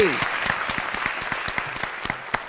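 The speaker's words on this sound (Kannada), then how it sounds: "ಈ ಒಂದು ಜಿಲ್ಲೆಗೆ ಜೋರಾದ ಚಪ್ಪಾಳೆ ಬರಲಿ" A studio audience applauds loudly for Haveri district during a televised music audition in Bengaluru, dense steady clapping close by that carries on throughout with a few sharper claps near the end.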